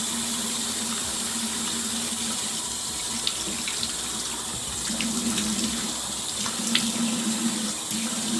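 A bathroom tap runs steadily into a sink during face washing, a continuous close hiss and splash with faint irregular drips and clinks over it, no voices.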